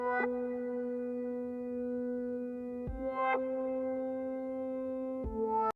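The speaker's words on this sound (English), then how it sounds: "we're grabbing the synth key called Yonkers." A Yonkers synth key patch from CS80 Analog Lab plays sustained root notes stacked in octaves, steady held tones changing pitch twice, moderately quiet and alone.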